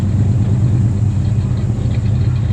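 A Dodge Dart engine with full exhaust idles steadily nearby on roll-around stands, a loud low rumbling drone with no change in pace, no voices over it.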